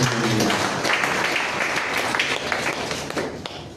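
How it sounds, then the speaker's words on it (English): A steady wash of audience applause fills a health event, the crowd clapping for a county mental health coordinator, dense and continuous throughout with a slight easing toward the end. "let us please give a big round of applause for our county mental health coordinator"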